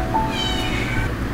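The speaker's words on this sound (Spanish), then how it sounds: "mis gatos empezaron a maullar porque se le acaba de dar croquetas" Cats meowing after being fed kibble, one drawn-out meow over a dense, loud background of continuous game audio.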